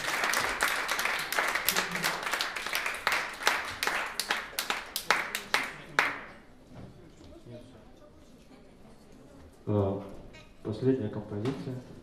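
Enthusiastic audience applause at a jazz quartet concert, dense clapping for about six seconds that fades into scattered claps, then a quiet room with a few murmured voices.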